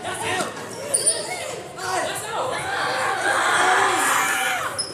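Many people scream in a Civilization-style strategy game, overlapping shrieks and wails rising and falling under loud crowd noise for the full stretch, with a couple of sharp thumps near the one-second mark.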